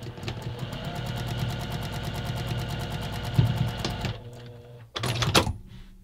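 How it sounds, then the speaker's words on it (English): Sewing machine stitching a quarter-inch seam through quilt fabric, a steady rapid mechanical rattle that runs for about four seconds, pauses, then resumes briefly in a short burst, close and moderately loud. "And we're going to sew again using a 1/4 inch seam allowance."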